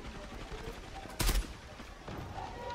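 A video game weapon fires one brief, sharp shot. It is set against a low background of game noise and voices talking.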